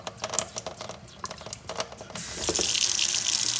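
Water from an under-sink reverse osmosis faucet begins to run after a few clicks and taps, then gushes steadily and loudly into the sink.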